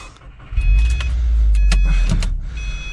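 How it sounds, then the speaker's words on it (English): A Subaru WRX sport sedan is started with a turnkey and the clutch pressed in. After a short crank, a deep engine rumble rises and holds steady, close and loud, with no talk. "With the clutch in, we'll go ahead and start this up."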